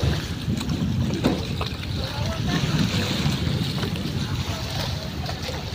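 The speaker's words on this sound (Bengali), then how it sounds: "আমরা এই ট্রলার দিয়ে নদী পার হয়ে নদীর ওই পার যাব," A trawler's motor drones steadily under rushing wind and splashing water while crossing the rough Meghna River, loud and close throughout, with faint voices in the background.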